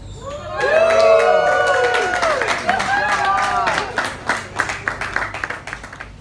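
An audience at an alligator show cheers and shouts loudly, then breaks into scattered clapping that thins out toward the end, with raised voices mixed in.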